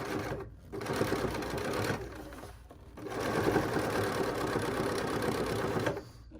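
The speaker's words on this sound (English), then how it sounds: "So I'm gonna stitch a few stitches forward, a few stitches back, and continue." A sewing machine stitches a few stitches forward and back on a fabric ornament, a close, loud rapid whirring in two bursts separated by a short pause, then a brief stop near the end.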